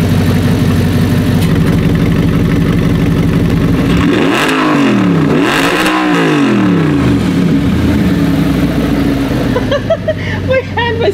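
An Audi R8 with an aftermarket Valvetronic exhaust revs loudly with its exhaust valves open, two sharp rising-and-falling blips over a steady idle rumble, heard close up.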